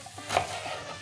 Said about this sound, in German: Zwiebel und Paprika anbraten.